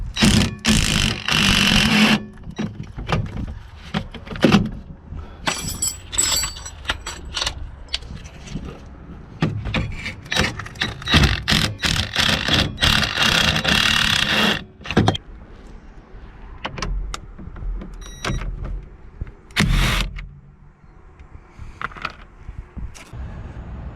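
Ryobi P263 impact wrench with a 13/16 spark plug socket running on bolts, loud close bursts of motor whir and rattling hammering, stopping and starting several times with short gaps between runs.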